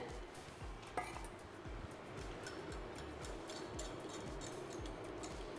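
Whisking starch and vegan egg into plant milk and cream for a vegan Japanese cheesecake's pastry cream: a steady, rapid rhythmic clinking and scraping of a whisk against a bowl, close and continuous throughout.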